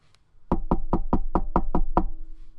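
Eight sharp, evenly spaced knocks on a door ring out in quick succession, loud and close with a hollow wooden resonance, used as a sound effect with no talking.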